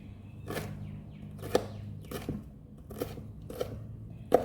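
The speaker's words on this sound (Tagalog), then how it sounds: "So, hiwain lang natin siya ng maliliit" A knife chops chili into small pieces on a board indoors, with six sharp, separate strikes spaced about a second apart, close and fairly quiet.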